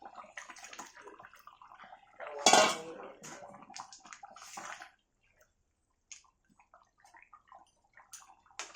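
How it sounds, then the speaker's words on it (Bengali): Potato pieces tipped into a pot of curry that is already boiling, a sudden loud clatter and splash, then bubbling and some light clinks of utensils against the pot. "তো এই আলুগুলো দিয়ে দেবো এখন।"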